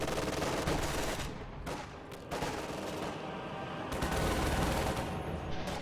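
Sustained machine-gun bunker fire in a strategy war game, a loud, dense rattle of gunfire running almost unbroken, with brief dips in intensity.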